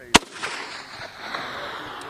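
Marines fire an M3E1 recoilless rifle: one sharp, loud blast near the start, followed by a rolling echo and a long hissing decay.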